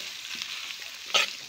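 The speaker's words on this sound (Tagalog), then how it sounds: "At paghalo-haluin lang natin ng maayos. Ayan, haluin lang natin ng mabuti para mag-combine silang lahat." Chopped sisig meat mixed with liver spread is stirred in a frying pan, giving a continuous close sizzle with soft stirring scrapes and a sharper burst near the end.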